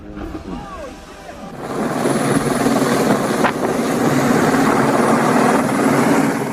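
A helicopter's rotor and engine drone builds up and holds steady, loud and close, with a faint voice at the start.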